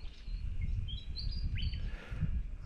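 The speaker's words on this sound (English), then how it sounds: "I couldn't even tell you what type of bird that is" An unidentified bird calls outdoors during a fishing trip, giving a few short, high chirps and whistles over steady low rumble and background noise, moderately close and not very loud.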